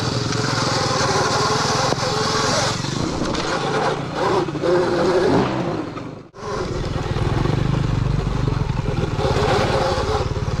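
A Sur-Ron electric motorcycle climbs an off-road hill with a loud, continuous buzzing drive and rushing noise. It briefly drops out near the middle, then surges back, with no talking.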